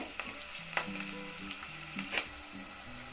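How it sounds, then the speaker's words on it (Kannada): Onions frying in a pan for buttermilk sambar, a quiet continuous sizzle with a few soft stirring knocks, close by and without talk. "ಒಂದು ಅರ್ಧ ಭಾಗ ಬೇಯಿಸ್ಕೊಂಡ್ರೆ ಸಾಕು ಈರುಳ್ಳಿನ"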